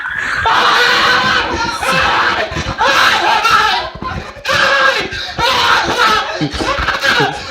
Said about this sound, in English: Okay, so she screamed. She started screaming.